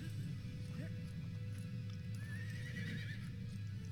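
A horse chess piece in LEGO Harry Potter's Wizard's Chess gives a few short, high whinnies over a dense, noisy game background, moderately loud.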